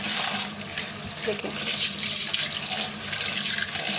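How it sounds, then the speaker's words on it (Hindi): Cold tap water pouring over boiled macaroni in a sink, a steady splashing rush throughout, with a brief spoken word over it. "ठंडा पानी डालेंगे ताकि ये जुड़े नहीं"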